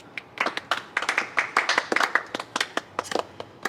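A small group of people clap their hands in a quick, uneven burst of sharp, close claps for a reel filmed at a summer party, with no talking over them.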